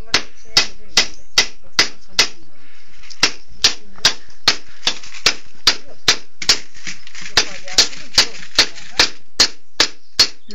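A scythe blade is peened with a hammer in Yukarı Kotanlı, a village in Kars, as sharp, metallic blows ring out in a steady, even rhythm, about two per second for the whole stretch, with faint voices in the background.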